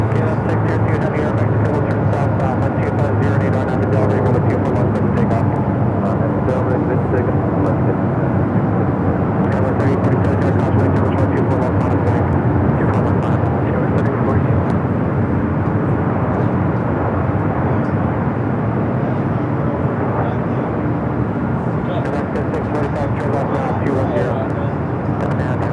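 A KLM airliner on short final approach at LAX roars steadily and loudly overhead for the whole stretch, a dense continuous jet rumble with a voice talking over it.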